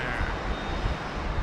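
Jet airliner passing at Sydney Airport in heavy rain, a loud steady broadband engine roar that holds evenly without pause throughout.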